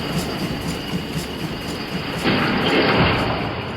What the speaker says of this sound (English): Trains arrive here every day carrying only coal.